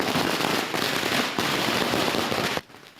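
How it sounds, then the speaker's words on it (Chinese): Firecrackers explode in a dense, continuous barrage at a Taiwanese temple festival, loud crackling that fills the whole clip and cuts off abruptly near the end. "万炮齐发，现场迎蓬蓬，参加的人爱弹出手中的炮啊！"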